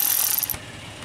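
A ratchet and socket working on the PCM connectors of a GM truck, heard as a short burst of bright, rapid clicking up close that stops abruptly about halfway through.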